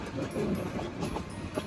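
A moving train on a family journey near Dhaka, a low steady rumble of the carriage with faint intermittent rattles and clicks, fairly quiet throughout.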